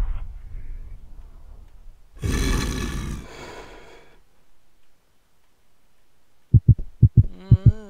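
In the video game The Wedding, a heartbeat sound effect thumps in a short cluster of deep, close pulses, following earlier rumbling and a loud burst of noise.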